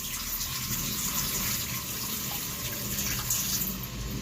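Water pours steadily out of a Brita XL filter pitcher in a continuous gushing, splashing stream, close and moderately loud, with no talking.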